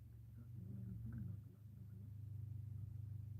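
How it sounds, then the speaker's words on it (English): A big truck rumbles past outdoors, a steady low engine drone that swells slightly and holds for a few seconds at moderate distance, with no talk over it. "Big truck."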